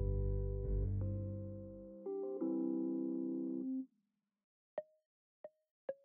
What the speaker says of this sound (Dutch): Oh, ik krijg telefoon.